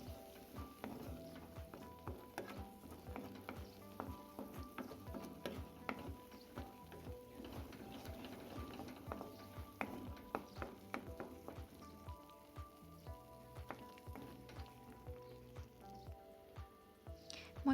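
Coriander and cumin powder stirred into a frying pan gives a faint, steady sizzle with light scraping ticks and clinks of the spoon, quiet and close, no talk.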